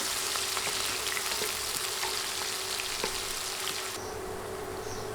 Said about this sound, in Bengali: পেঁয়াজ কেটে দিয়ে দিলাম নেড়ে দুই তিন মিনিট পেঁয়াজ ভেজে নিব